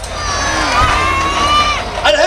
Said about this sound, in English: Is anyone still cheering for Chris Hyde?